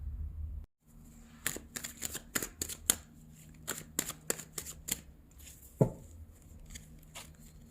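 Tarot cards are riffled and shuffled by hand in a quiet room, giving a run of crisp, close snapping riffles at an uneven rhythm, followed by one louder flutter near the end. No one speaks.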